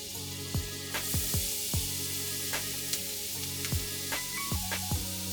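Garlic and butter sizzle steadily in a hot pan while preparing beef baked beans, a continuous hiss punctuated by several sharp clicks and knocks of a utensil against the pan.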